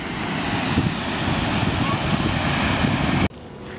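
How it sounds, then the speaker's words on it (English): Waves and wind on a beach at sunset, a loud rough rush of surf with wind buffeting the microphone, cutting off sharply near the end. "I'm enjoying this beautiful sunset. Sunset. Gotta love the beach."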